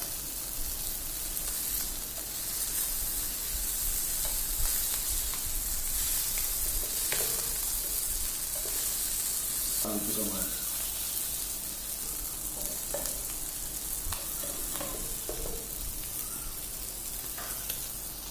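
Pieces of shark fish frying in oil with chilli powder, a continuous, even hiss of sizzling oil with a few faint stirring scrapes partway through, close and steady.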